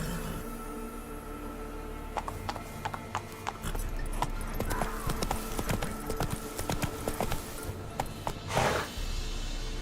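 Roach, a horse in The Witcher 3, gallops in a steady run of clopping hoofbeats against a constant game backdrop, with one louder swishing burst near the end.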